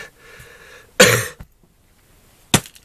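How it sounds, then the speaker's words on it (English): Two harsh coughs ring out close to the mic, a long rough burst followed a second later by a shorter one, with quiet between. "I'm going to cough"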